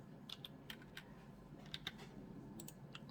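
Typing on a computer keyboard, a quick irregular run of crisp, close keystroke clicks over a quiet room background, with no one talking.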